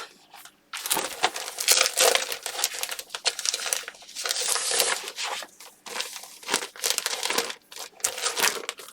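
An object is cut in half, producing several seconds of crackly, crinkling cuts and snips in irregular bursts, close and fairly loud, with no talking.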